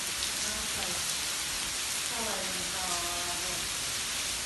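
Steady rain pours down outside the Selimiye Mosque in Edirne, a dense unbroken hiss of drops on surfaces, fairly close and constant, with a voice speaking faintly underneath.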